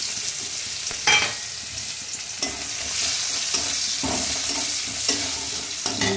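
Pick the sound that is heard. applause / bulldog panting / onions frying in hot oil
onions frying in hot oil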